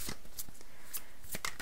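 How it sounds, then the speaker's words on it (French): Oracle cards shuffled by hand, a series of quick papery riffles and soft slaps, near and fairly quiet, with no voice over them. "On va le brasser comme ça, parce que sinon je brasse mes cartes"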